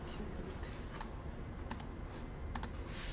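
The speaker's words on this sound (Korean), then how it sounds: "그럼 저 델리트 키를 누르면 지울 수가 있습니다." Keys pressed on a computer keyboard, including the delete key, in a classroom lesson: a few crisp separate clicks over a steady background hum, no talking.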